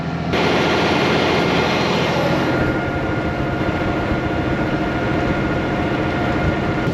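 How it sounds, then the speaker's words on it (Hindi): A truck drives a snowy Alaska highway toward Deadhorse in about -30 degree cold, producing a loud, steady engine and road roar that holds unbroken from start to finish. "ट्रक की आवाज़ सुनो"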